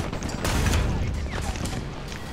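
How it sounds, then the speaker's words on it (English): Churchill Crocodile tank in a video game firing its machine gun, a dense continuous burst of rapid gunfire with clattering mechanical noise and explosions, loud and close for over two seconds. "now I'm just down to a machine gun."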